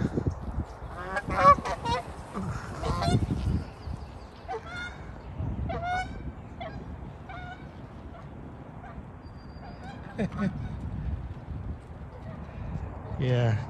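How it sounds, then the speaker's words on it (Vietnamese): Geese honking repeatedly beside a pond swollen with water after days of rain, loud nearby calls in irregular bursts, with people talking over them at times and a dog barking briefly. "Ở đây mấy ngỗng nè."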